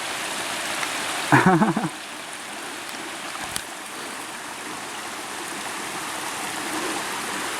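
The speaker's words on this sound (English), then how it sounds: "Waterfall!" Waterfall stream at Pixley Falls State Park, a steady, full rush of flowing water heard up close throughout, with a short voice-like sound breaking through early on.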